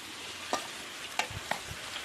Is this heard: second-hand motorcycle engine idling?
no